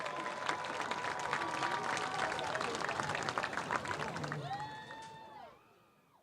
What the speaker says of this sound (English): we want to take this opportunity to give them a round of applause